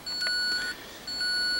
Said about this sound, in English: It's not happy. It's throwing an alarm.